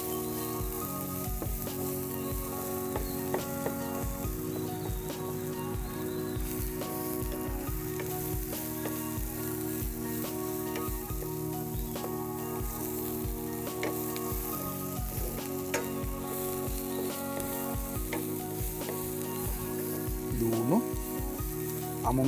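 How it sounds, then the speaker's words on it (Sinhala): Onions frying in a small amount of oil, a steady sizzle running continuously under background music with a few stirring clicks. "අපි ලූණු ටික බැද ගන්න"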